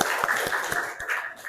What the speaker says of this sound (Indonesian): Oke, bagus sekali, tepuk tangan dulu.